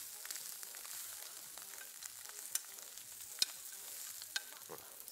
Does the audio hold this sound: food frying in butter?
yes